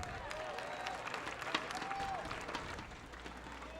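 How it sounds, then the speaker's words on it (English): Faint, scattered applause from a few archery spectators at Lindquist Field during a compound men's bronze match, a light patter of claps heard from a distance. "Smattering of applause here at Lindquist Field."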